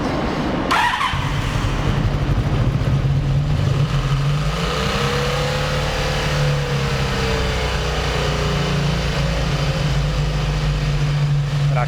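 A cafe racer motorcycle engine catches after a brief cranking burst, then settles into a steady, loud idle with a slight rise and fall in revs, running continuously close by.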